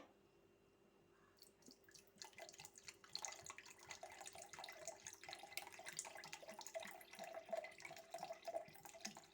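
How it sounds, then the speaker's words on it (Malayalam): Water trickles and splashes steadily for several seconds after a quiet start, a close continuous pour with small drips. "നമുക്കിനി കുറച്ച് വെള്ളം ഒഴിച്ചു കൊടുക്കാവേ"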